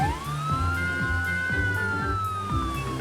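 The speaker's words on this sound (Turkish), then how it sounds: "İlk polis arabası yeni parkuru deneyecek." A toy police car siren wails in a rising and falling tone over a steady background of repeated musical or mechanical pulses, loud and continuous for the whole stretch without speech.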